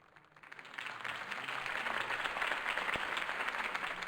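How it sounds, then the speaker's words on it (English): Crowd applause in the Batman Telltale video game builds from quiet to a steady, sustained wash of clapping from a gathered audience at a political campaign event, with no talk over it. "If only Mr. Wayne, my campaign's largest backer, could have heard that applause"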